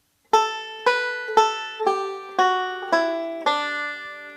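One measure of Whisky Before Breakfast on banjo, about eight bright plucked notes in an even rhythm, each with a sharp attack and quick decay, close and alone.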